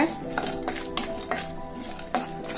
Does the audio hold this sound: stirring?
yes